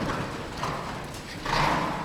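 A mare struggling with her canter during confidence training, hooves striking ground in a soft, uneven rhythm amid steady outdoor noise, moderately close and fairly faint.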